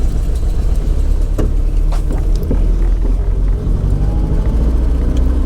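A 1971 Opel GT driving on the road, its engine a loud, steady low rumble close by, with road noise and no talking.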